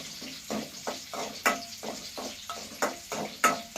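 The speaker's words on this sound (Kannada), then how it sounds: "ಆ ಮೆಣಸಿಕಾಯನ್ನ ಹಾಕಬೇಕ್ರಿ ಯಾಕಂದ್ರೆ ಅದು ಖಾರ ಬಿಡ್ತೈತ್ರಿ ಎಣ್ಣೆ ಒಳಗೆ" Finely chopped green chillies fry in hot oil for a village-style fenugreek leaf dish. A steady sizzle is broken by regular stirring scrapes about twice a second, close by.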